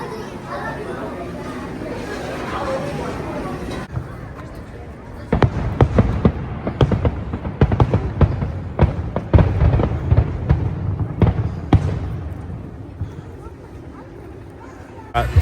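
A fireworks show at an amusement park during a coaster enthusiast event. Sharp booms and crackling bursts come in quick irregular succession after a calmer start, with crowd chatter throughout.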